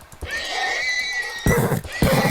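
A horse whinnies in a video game with a rising, wavering call, followed by a couple of short bursts of snorting or clopping noise.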